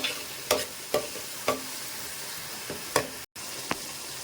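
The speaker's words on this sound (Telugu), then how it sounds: "ఇట్లా బాగా మనకి ఫ్రై అయిపోవాలి" Fish curry being cooked Nellore style, with a spatula or spoon scraping and stirring through the pan in a handful of short, separate strokes over a steady, quiet sizzle of frying, close by and with no voices.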